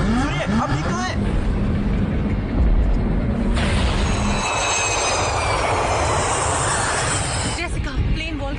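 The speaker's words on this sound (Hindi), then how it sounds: "जेसिका, प्लेन वोल्केनिक ऐश क्लाउड से गुजर रहा है। इससे इंजन पर खतरा हो सकता है।" Steady roar of airplane engines in flight, dramatized as the plane passes through a volcanic ash cloud, a loud broadband drone running throughout with voices talking over it at the start and end.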